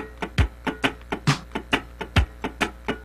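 Muted funk guitar scratching swung sixteenth notes over a drum machine, alternating longer and shorter percussive strokes in a loping groove, with deep kick hits marking the beats, close and steady.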